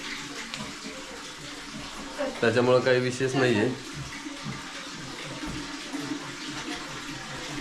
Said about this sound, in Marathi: पाण्याचा आवाज येतोय सगळा